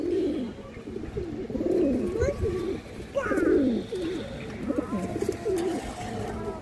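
A male pigeon coos steadily in low, rolling calls, several overlapping phrases repeating close by with little pause between them.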